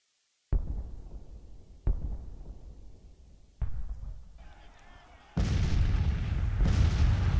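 Heavy artillery booms in Grand Tactician: Civil War, three separate thunderous blasts each trailing off, then a dense, loud rumble of massed cannon and gunfire filling the rest.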